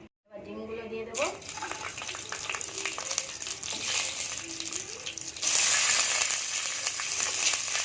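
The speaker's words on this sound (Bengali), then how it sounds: "ডিমটা প্রথমে ভেজে নেব দিয়ে দেবো কড়াই সর্ষের তেল" Eggs fry in mustard oil in a wok: a brief voice comes first, then a loud crackling sizzle bursts in and later swells even louder and stays near.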